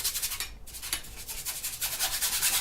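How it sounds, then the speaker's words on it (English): A brush scrubs gray oil paint across an entire canvas in Manet's manner, producing close, rhythmic rasping strokes in repeated back-and-forth bursts with a brief pause, no talk. "So we're just going to scrub the whole entire canvas with this color, gray."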